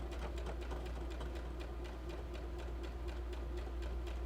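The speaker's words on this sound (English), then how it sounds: "So I'm doing my back stitching" A sewing machine back stitches a fabric scrunchie, a quiet, steady rapid ticking hum with an even mechanical rhythm and a low background drone.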